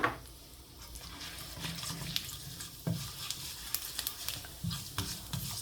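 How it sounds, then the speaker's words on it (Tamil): Mustard and fennel seeds sizzling and crackling in hot oil, with sharp irregular pops and a faint scrape of stirring, fairly quiet overall. "எண்ணெய் விட்டு நான் இப்போ கடுகு பெருஞ்சீரகம் போடுவோம்"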